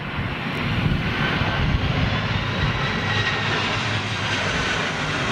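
A Ryanair Boeing 737 jet comes in to land with a steady, loud engine roar that swells slightly and holds as it passes fairly close.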